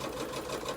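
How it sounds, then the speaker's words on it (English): A quiet home sewing machine runs in a steady, even whir as it stitches fabric, heard close up and on its own without any voices. "my sewing machine is pretty quiet, so it shouldn't be too bad for you"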